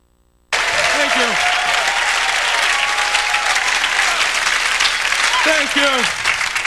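Applause breaks out suddenly from a comedy club audience and holds as a loud, dense wash of clapping, with a voice speaking over it near the start and again near the end.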